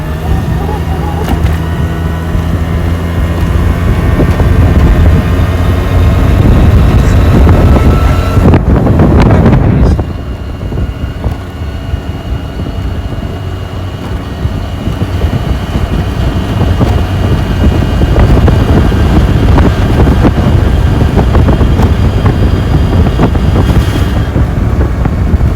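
A Yamaha Vino scooter rides along with a steady engine drone under heavy wind buffeting on the microphone, the engine note dipping briefly midway before rising again.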